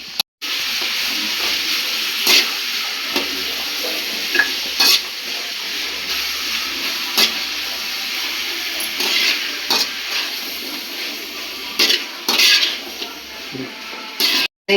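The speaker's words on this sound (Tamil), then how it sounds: "நன்றாக வதக்கி கொள்ளவும்" Chopped vegetables for a kurma sautéed in a pan with a steady, close sizzle and hiss, punctuated by repeated scraping and knocking of a stirring spoon throughout.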